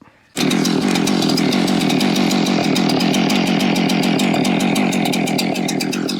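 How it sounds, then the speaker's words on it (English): A Husqvarna-style 372 chainsaw fitted with a Hipa chain cuts into a maple log about 19 inches across, starting abruptly and holding a loud, steady, close-up cutting roar with rapid chain chatter throughout, with no talking. "We're gonna fire this 372 up. I'm gonna warm it up, and I got a piece of maple up here, and we're gonna saw on it"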